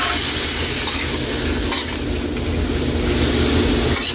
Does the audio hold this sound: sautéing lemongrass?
yes